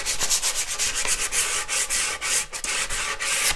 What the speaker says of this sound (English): I'm just giving them a nice light sand.